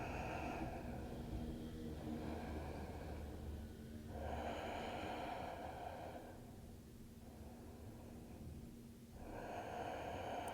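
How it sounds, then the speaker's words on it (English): During a calm yoga flow class, slow Ujjayi breaths rasp softly through the throat, three long ocean-like inhale and exhale waves, faint and close, with no talking. "connect back to your Ujjayi breathing"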